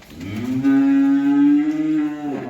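A single long, low moo from a first-calving Friesian-Jersey heifer on a farm, close by and loud, rising at the start and trailing off after about two seconds.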